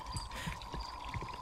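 Running water in the horror video game Cry of Fear, a faint steady pouring stream with a thin tonal hum, continuous and unbroken, heard alone without talk.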